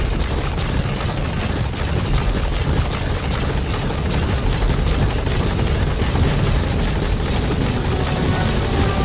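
B-Quad helicopter in Metal Gear Solid V arriving at a landing zone, a loud, continuous rotor thump and turbine roar filling the whole stretch without pause.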